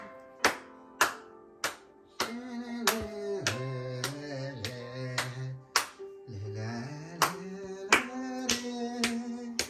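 Hands clap in sharp, evenly spaced strikes at a family first birthday celebration, cutting through a sung or hummed melody and children's voices close by.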